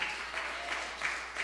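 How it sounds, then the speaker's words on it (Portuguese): A church congregation gives a short burst of steady, close applause, a dense patter of hands that lasts about a second and a half. "As palmas louvam ao Senhor Jesus Cristo."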